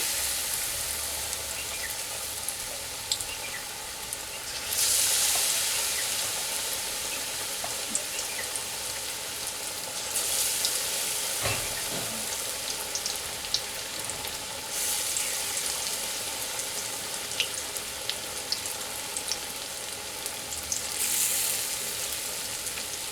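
Pointed gourd slices coated in batter fry in hot oil over a low gas flame, a steady close crackling sizzle with occasional louder bursts and pops throughout.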